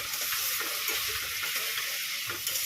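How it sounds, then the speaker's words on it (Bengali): Spice paste for a paneer curry sizzles and hisses steadily in a pan while being stirred, a continuous close frying crackle with faint scraping strokes and no voices. "এখানে হচ্ছে মশলাটা কষিয়ে নিচ্ছি"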